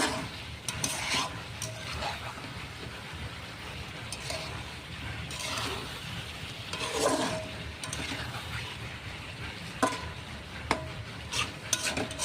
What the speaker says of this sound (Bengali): আমি আর একটু ভালো করে একটু মেরে দেব ভালো করে নাড়িয়ে চাড়িয়ে